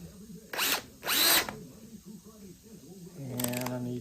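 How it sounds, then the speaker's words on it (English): Drill driving screws into a softwood folding tablesaw infeed support, two short loud whirring bursts, then a longer buzzing run with a clicking clutch, close by over low background noise. "We pop in a couple screws here."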